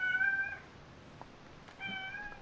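A cat meows twice, each a clear drawn-out call, the second about a second and a half after the first, fairly close over a quiet background.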